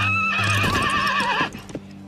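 A horse gives a loud, close whinny with a wavering, falling pitch that lasts over a second, followed by a few soft hoof thuds and stable shuffling.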